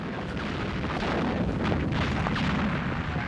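Artillery barrage at El Alamein, a dense continuous rumble of distant booms and blasts rolling together without pause.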